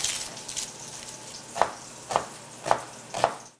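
Bacon lardons and onions frying in a pan, with a steady hiss of sizzling and four sharp stirring scrapes at regular intervals near the end.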